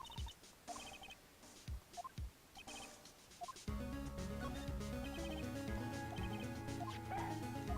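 Short yipping dog barks in the Phoenix Wright: Ace Attorney DS game, a few sharp electronic woofs over light game sound effects, then giving way to a loud, steady music track.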